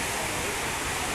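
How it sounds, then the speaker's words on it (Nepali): Pokhara's largest waterfall in Nepal roars as a dense, unbroken wash of rushing water, loud and even throughout the short moment. "पोखराको सबभन्दा राम्रो एन्ड ठुलो झरना"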